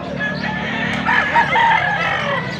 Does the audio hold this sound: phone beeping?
no